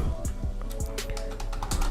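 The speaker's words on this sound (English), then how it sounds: "open a browser and type" Typing on a computer keyboard, a steady run of close, crisp key clicks with a few heavier strokes, alone with no talking.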